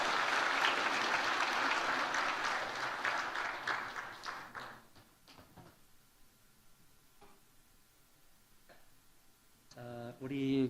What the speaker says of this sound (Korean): 여러분 크게 박수로 축하해 주시기 바랍니다.